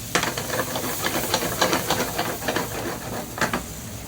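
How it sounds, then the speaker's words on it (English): Chopped onion sizzling in a pan over a high flame, a steady crackling hiss with scattered sharp pops and spits throughout, close and continuous. "Onion, high flame."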